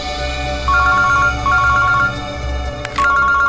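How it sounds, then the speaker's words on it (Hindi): A phone rings in repeated electronic bursts, three ringing phrases over a steady low hum of indoor background noise, fairly loud and close, with no talking. "अभिजीत का फोन है।"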